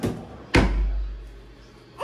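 A drawer in a resort hotel family suite slides shut with one solid, close thunk, preceded by a brief knock and followed by a fading low resonance.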